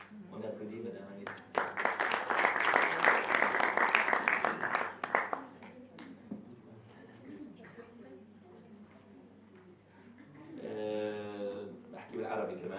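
A conference audience applauds someone in a dense burst of clapping that lasts a few seconds and fades out, followed by quieter room sound and then a voice speaking.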